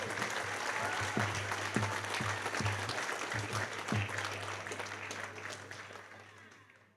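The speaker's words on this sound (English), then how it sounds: "Let's give them a round of applause" A crowd at a formal ball claps for hall of fame inductees, a sustained wash of applause with a few sharper claps near the front, tapering off at the end over a low hum.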